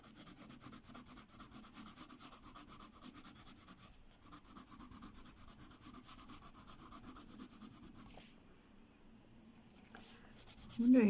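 Coloured pencils rubbing and blending on paper for a detailed mushroom colouring page, a soft, steady scratchy stroking that continues throughout, close and quiet, with a brief pause and a louder scrape at the end.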